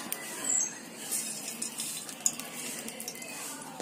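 A pan of muskmelon halwa is stirred while frying in ghee, giving soft metallic clinks and scrapes over a faint sizzle at low volume.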